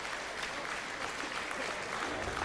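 A crowd at a boxing match in Germany applauds with steady, dense clapping that carries on evenly throughout.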